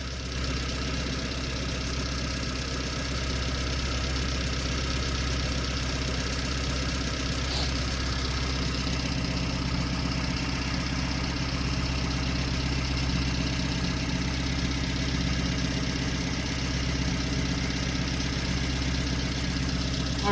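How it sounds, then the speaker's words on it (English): A tuned car engine idles steadily with a continuous low rumble, unchanging throughout and heard alone, close by, with no talk. "Okay, so engine's running now."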